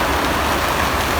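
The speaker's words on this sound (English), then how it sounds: "You can probably hear the rain outside in the polytunnel." Rain falling on a polytunnel, a dense, steady patter drumming on the plastic cover, loud and continuous.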